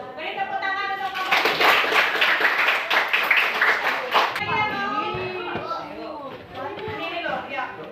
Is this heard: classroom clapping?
yes